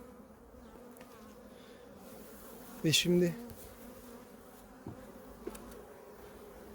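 Honeybees buzz around an open hive during queen cell handling, a steady faint hum broken by a short loud burst near the middle and a few clicks, with a brief voice.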